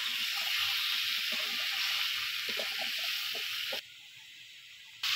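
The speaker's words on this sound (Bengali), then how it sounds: "আর আমি মাছ ভাজা তেলের মধ্যে পেঁপে আর আলুগুলো একটু ভালো করে কষি দিবা" Papaya and potatoes sautéing in oil left from frying fish, a steady loud sizzle and hiss from the pan that drops briefly quieter near the end, with faint stirring scrapes beneath.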